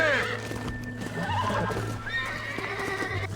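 A horse in Red Dead Redemption neighs loudly and close, a shrill whinny followed by snorts and shuffling hoofbeats, with no talk over it.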